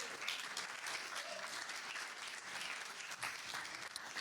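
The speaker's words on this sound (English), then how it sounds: "Can we have a round of applause, please?" Crowd applause at an in-person sales and revenue leaders event, a continuous even rattle of many hands clapping, moderately distant and steady throughout.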